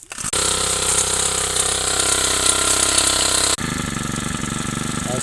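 An engine-driven sprayer pumping pesticide spray in a mango orchard, a loud, steady mechanical drone with rapid ratcheting pulses that shifts abruptly in tone partway through.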